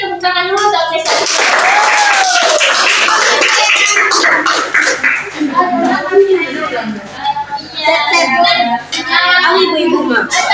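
Children and parents clap together in an outdoor class session to celebrate an achievement, a dense burst of hand claps running for several seconds mixed with children's voices and chatter, with adult speech over it.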